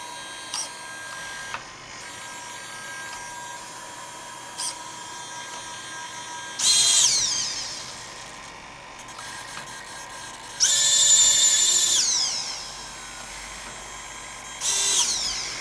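B9 robot arm servos whirring at full speed in three bursts of high-pitched mechanical whine, separated by quieter stretches with faint clicks, close and fairly loud.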